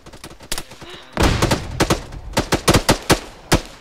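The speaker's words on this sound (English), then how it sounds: "They're shooting each other now." Gunfire exchange in a tactical shooter video game: a short burst of shots, then a louder volley and a rapid series of sharp, distinct reports in uneven rhythm, close and loud.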